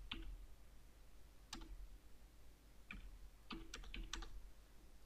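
Soft, quiet keystrokes on a computer keyboard come in short bursts of a few taps with pauses between, close and clear against a low background hum while filling in a PDF form.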